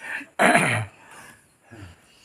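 A single sharp, loud cough bursts out, followed by a fainter throaty sound in an otherwise quiet room.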